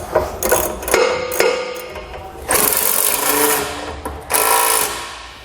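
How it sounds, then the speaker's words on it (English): A 3/4 inch (19 mm) socket snugging up bolts on a B and W Companion OEM fifth wheel hitch with slider in a 2019 Chevrolet, heard as close, rapid ratcheting in short runs, then two longer, louder spells. "Now we're going to take a 3/4 inch socket or a 19. We can go ahead and snug up these bolts."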